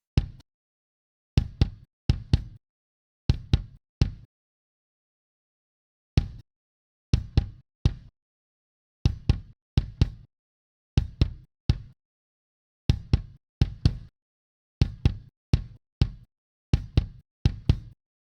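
A kick drum with subtle compression plays alone in short groups of punchy, tight low thumps separated by brief silences, close and dry, repeating in a steady pattern.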